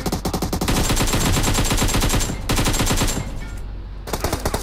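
Loud, sustained automatic gunfire from a machine gun in the PUBG Mobile video game, with rapid continuous bursts, a brief dip past the middle, and the firing resuming at the end.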